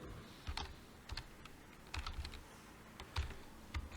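Quiet keystrokes on a computer keyboard come in scattered clicks and short bursts, fairly close and soft, with no talk.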